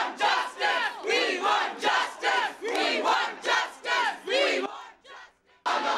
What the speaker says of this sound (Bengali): তাঁদের দেখে উই ওয়ান্ট জাস্টিস স্লোগান দিতে থাকেন পড়ুয়ারা।